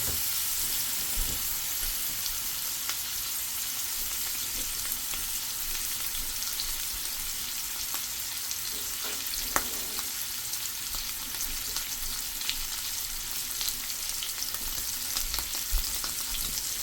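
Steady, close sizzling of steak searing in a hot pan, a continuous crackling hiss with occasional pops, no talking.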